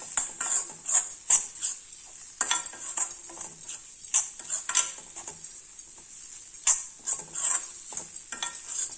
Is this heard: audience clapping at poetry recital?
no